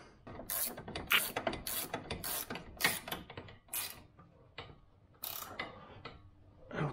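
A hand ratchet clicks rapidly while nipping up the front upper suspension arm bolts on a Land Rover Discovery 3, in close, sharp bursts of ratcheting strokes separated by brief pauses.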